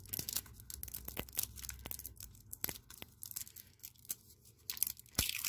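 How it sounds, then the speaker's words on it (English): Plastic wrapping is torn and crinkled off a skull-shaped Halloween toy filled with liquid. The rustling comes close and sharp in repeated bursts, with sharper rips near the end and no talking. "Let me take this plastic off"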